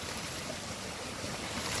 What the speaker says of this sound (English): Big old spring coming out of the hill.